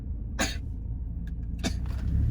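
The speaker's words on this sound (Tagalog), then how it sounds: "Mag-ubo lagi siya ma." Two short coughs, close by, over a steady low rumble of passing traffic.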